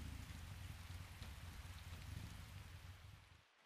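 Steady heavy rain in a video game at night, hissing and pattering continuously, fairly quiet, with a low rumble beneath; cuts off abruptly at the end.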